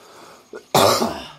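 A single loud, close cough bursts out after a small throat sound, then trails off into quiet.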